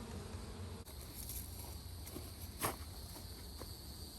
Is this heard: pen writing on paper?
no